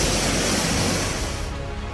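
Floodwaters surge in Pakistan with a loud, continuous broadband roar of churning waves and rushing water that stays steady throughout, with no voices.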